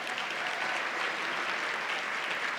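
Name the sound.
audience applause at luncheon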